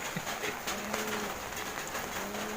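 Soft, repeated cooing of pigeons or doves, steady and moderately close, over a constant hiss of background noise.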